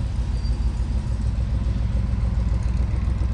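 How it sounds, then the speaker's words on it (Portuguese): A 1963 Shelby Cobra's engine rumbles steadily from inside the car as it drives slowly, a deep continuous low drone with no voices over it. "vamos dar uma voltinha no Cobra agora"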